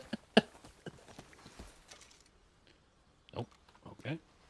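Horse hooves clopping in the video game Red Dead Redemption 2, a few sharp scattered hoof impacts early on, then two short louder bursts near the end, with quiet gaps between.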